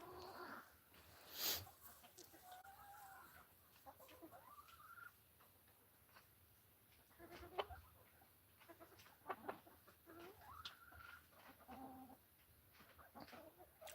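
Silkie bantam hens on a farm give a few soft, scattered clucks and murmurs, faint and spaced out across a mostly quiet stretch, with occasional small knocks and rustles nearby.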